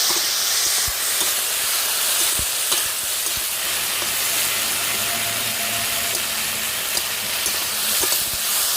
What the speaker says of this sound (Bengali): ঢাকনাটা তুলে নেব একটু নেড়ে চেড়ে দেবো